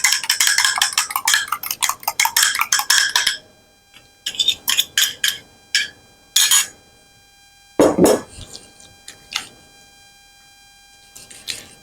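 Tuna and egg being mixed in a bowl give quick bursts of scraping and clinking, starting in a steady flurry and then breaking into scattered strokes with pauses of near silence.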